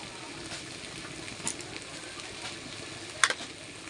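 Jujube pickle with salt is stirred in a pan: a soft, even sizzle with a couple of sharp scrapes or clinks from the spoon.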